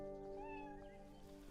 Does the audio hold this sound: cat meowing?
yes